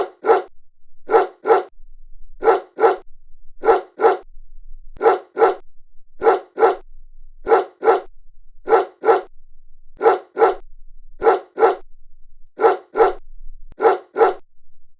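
A dog in an animated cartoon gives steady pairs of loud, sharp barks, repeating in an even rhythm against silence.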